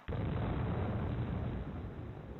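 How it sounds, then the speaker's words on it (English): A loud, sustained roaring rumble kicks in abruptly, like a nearby wartime bombing explosion, then slowly eases off. "All around you, you can hear the sound of explosions."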